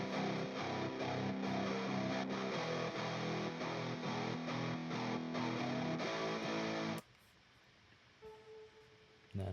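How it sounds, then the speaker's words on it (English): Thick, layered distorted electric guitars chug through power chords with a steady rhythm, loud and full, then cut off abruptly near the end, leaving a faint quiet tail. "And also layered this with another guitar playing power chords."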